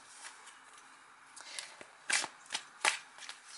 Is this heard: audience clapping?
no